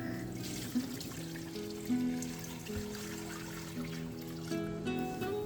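Running tap water splashes and trickles steadily in a sink as mixed cut raw chicken pieces are given a thorough wash, with soft clinks and shifting water tones throughout.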